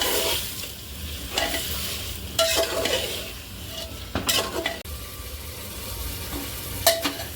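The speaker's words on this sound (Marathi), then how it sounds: "सगळं मस्त छान असं फ्राय झालं मसाले सगळे असे मिक्स झाले" Mutton pieces fry in oil with spices, a steady sizzle under repeated scraping and stirring strokes of a utensil against the pan, with occasional metallic clinks, close and moderately loud, no voices.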